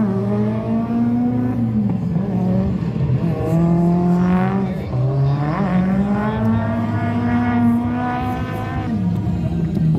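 The SR20 engine of a Nissan S13 drift car at Drift Indy howls continuously at high revs, pitch rising and falling as the throttle is worked, loud and fairly close.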